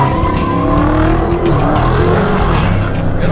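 A 797-horsepower race car launches hard on a road course, its loud engine roaring up in pitch while the tires squeal and skid. No one talks over it.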